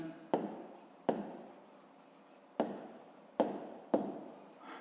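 A pen writes a fifth-grade math exercise by hand, making five sharp taps on paper at irregular intervals, each followed by a short scratching stroke, close and quiet.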